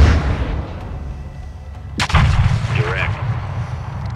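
Heavy artillery cannon fire in Call of Duty: Modern Warfare II, one loud booming blast with a long rumbling tail over constant battlefield ambience, a radio voice talking afterward.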